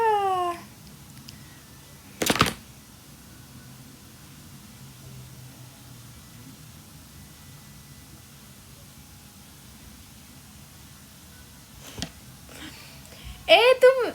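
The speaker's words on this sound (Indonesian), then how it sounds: "Kucing nangis tuh rasanya kayak aneh." A cat cries out in short rising meows at the start and again near the end, separated by a long quiet room stretch broken by a couple of sharp knocks.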